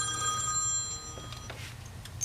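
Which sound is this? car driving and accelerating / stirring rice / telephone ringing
telephone ringing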